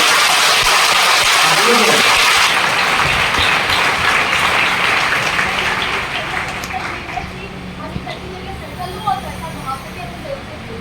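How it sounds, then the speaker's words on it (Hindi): A training-session audience claps loudly and continuously in a dense roar of applause, which then thins out into scattered claps as it fades. "तो एक बार जोरदार ताली आपकी सेहत के लिए"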